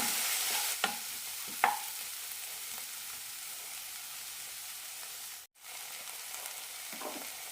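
Chili powder masala for chicken cabbage fry being sautéed in a pan gives a steady soft hiss, with a few scraping stirs of a spoon near the start and a brief drop out partway through.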